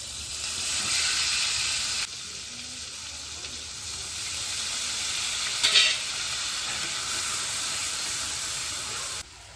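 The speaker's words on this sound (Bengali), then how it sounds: "এইভাবে কড়াইতে আবার তেল দিয়ে দিচ্ছি" Oil sizzles steadily in a kadai while fish curry is being made, a continuous bright hiss with a short break near two seconds and a brief crackling burst midway, with no voices.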